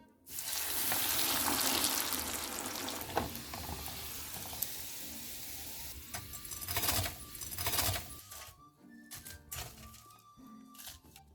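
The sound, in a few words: cheese cigarettes frying in oil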